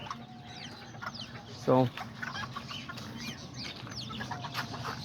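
Small Kikiriki and serama chickens clucking and chattering in a backyard flock, with one sharp, louder call near the middle and a voice briefly heard.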